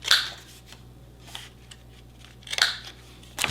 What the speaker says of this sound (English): I have this little corner punch here.